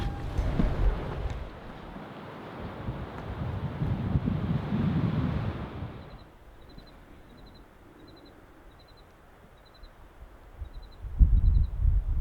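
Strong wind buffets the microphone at an exposed campsite along the High Country Overland Trail as a storm moves in, a loud broad roar for six seconds that drops to a quieter steady rush, with another hard gust near the end.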